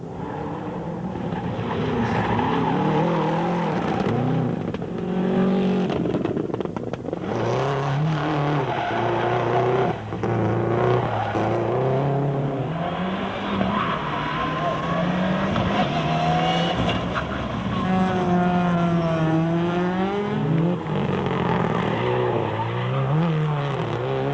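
Mitsubishi Evo 6 and Subaru WRX rally cars race on treacherous gravel stages at Longmoor, with loud engines revving hard, rising and falling through gear changes, tires skidding and squealing, and cars passing close by.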